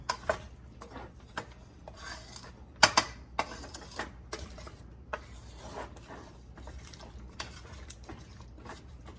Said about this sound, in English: I'm gonna go ahead and put the aluminum foil on here now